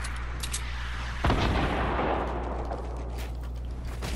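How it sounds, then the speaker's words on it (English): A single sharp gunshot cracks out in the Fortnite battle royale game, then a broad, sustained rumble of gunfire and game noise rolls on at a steady level. "Gunshots"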